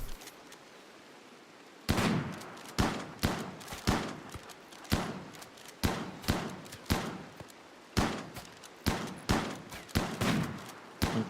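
Gunfire in the video game RimWorld: a rapid series of sharp, punchy shots sounds in irregular bursts, roughly a dozen cracks over several seconds, moderately loud against a quiet background with no talk.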